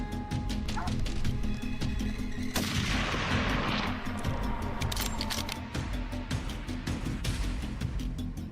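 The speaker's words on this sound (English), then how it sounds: "A shot rang out." A rifle shot cracks sharply during a wild boar hunt, loud and close, amid the steady barking and yelping of hunting dogs that continues throughout.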